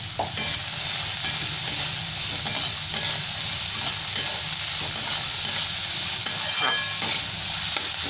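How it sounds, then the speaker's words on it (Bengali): Steady sizzling of peas and carrots frying with salt in a pan, loud and close, with occasional stirring scrapes throughout and no voices. "এখন ভাজা হোক আমার,"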